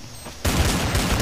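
Desert Eagle and dual pistols firing in Counter-Strike: Source, an abrupt burst of loud, rapid overlapping gunshots that continues steadily after a quiet lead-in.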